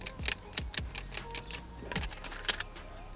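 A car shift knob is screwed on and locked with a wrench: a quick series of close metallic clicks, taps and light rattles, some sharper than others, in a quiet space.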